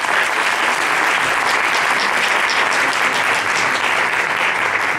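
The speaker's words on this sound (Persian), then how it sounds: "سرپرستی این گروه رو هنرمند خوش‌ذوق آقای فرزین نیازخانی به عهده دارم، تشویقشون بفرمایید" An audience at a music school concert at Niavaran Cultural Center claps steadily and loudly. The dense applause holds an even level throughout, with no voices heard above it.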